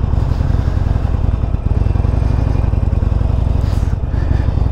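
A Harley-Davidson Sportster 1200 engine runs rough with a faulty front O2 sensor, giving a steady loud low-pitched thumping idle with a rapid pulsing rhythm, close by and unbroken, with no talk.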